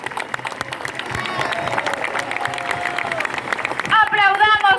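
Applause from a large outdoor crowd at a beatification celebration for martyrs, moderate and continuous clapping under an amplified voice that rises near the end.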